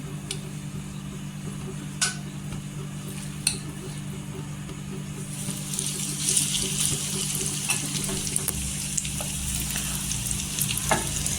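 Marinated, masala-coated soybean chunks frying in a little oil in a pan, a steady sizzle that swells louder after a few seconds, with occasional sharp clicks of a spoon stirring.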